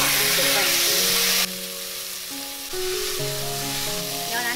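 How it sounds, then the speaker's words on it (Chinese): Beef brisket stir-fries in a hot wok to cook off its moisture, a loud hissing sizzle that drops off sharply partway through while tonal background music plays. "我们举热锅，把牛腩放进来炒干水"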